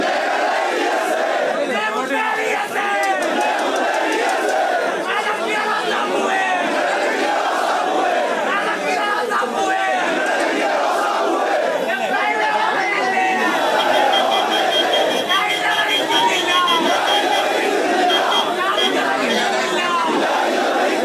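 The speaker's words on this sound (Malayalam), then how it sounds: "സൂചനകളാണ് ഇന്നത്തെ ഈ വലിയ ആൾക്കൂട്ടം ജനസാഗരം എന്ന് തന്നെ പറയാം" A vast crowd gathered along the roadside for the funeral procession of veteran Kerala politician V.S. in Thiruvananthapuram, raising a continuous dense roar of shouting and chanting voices that stays loud and steady throughout.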